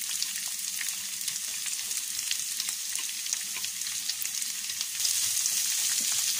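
Grated coconut sautés in a pan for a Kottayam-style Kerala beef coconut fry, giving a steady, close hiss of frying with occasional stirring scrapes, growing slightly louder near the end.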